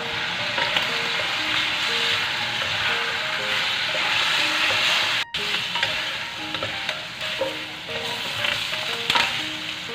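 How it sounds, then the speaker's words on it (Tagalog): Pork hock and tomato added to a cooking pot for sinigang with mung beans: a steady, loud sizzle and hiss with stirring scrapes and light clinks that continue for the whole span. "Lagyan na natin yung ating sahog na pata"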